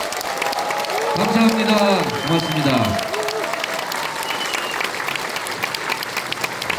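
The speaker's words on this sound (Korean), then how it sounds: "이원택 의원께 여러분 아낌없는 큰 박수를 부탁드립니다" A crowd at a Korean lawmaker's book launch event claps continuously, while someone speaks briefly over the applause near the start and the clapping carries on steadily underneath.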